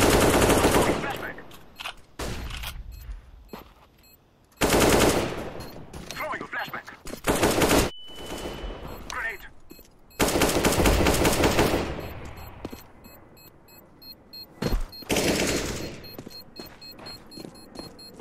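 AK rifles and other guns fire in a CS:GO match, loud bursts of automatic fire and single shots crowding the round, with pauses between volleys and voices talking underneath.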